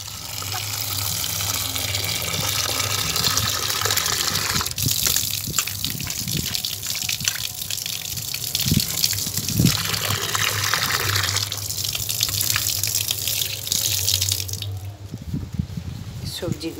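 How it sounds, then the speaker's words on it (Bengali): Tap water gushes loudly and steadily as potatoes and leafy greens are washed for khichuri at an anganwadi school kitchen, with splashing and shifts in the flow near the end. "আলু আর শাক, এগুলো আমি এবার ধোবো পরিষ্কার করে"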